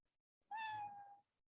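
A single cat meow from a Scratch programming sprite plays cleanly, about a second long, close and alone against silence.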